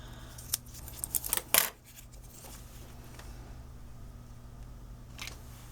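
A few quick crisp snips of scissors trimming card paper for a Valentine's Day card, clustered sharp cuts close to the mic followed by quiet room hum.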